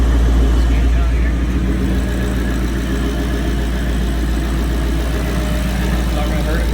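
A Ford Mustang 5.0 engine idles steadily after an oil change, a continuous low rumble running throughout with talk over it.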